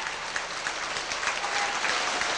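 Audience applause at a 1991 Austrian folk music show evening with yodelling acts: dense, steady clapping from a large crowd throughout, fairly loud and continuous with no voices on top.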